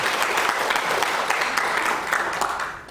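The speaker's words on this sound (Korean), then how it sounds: "박수가 막 나오고 있어요." An audience at a Buddhist dharma talk claps warmly, a dense burst of hand applause close and lively, holding steady before tapering off at the end.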